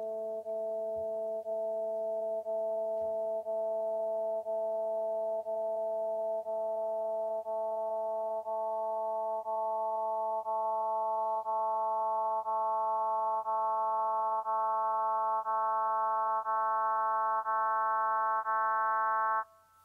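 FOF synthesis tones with different filter settings, a steady buzzing electronic drone made of stacked pure harmonics whose upper partials grow brighter partway through, sustained for about twenty seconds with no talk.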